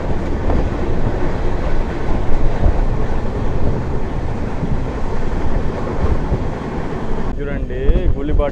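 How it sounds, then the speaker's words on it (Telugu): A locomotive hauls an express passenger train along the railway, heard as a loud, steady rumble and clatter of wheels on track that continues throughout, with a faint voice toward the end. "చూడండి గుళ్ళిపాడులో మన వ్యాగ్నిన్ లోకోమోటివ్"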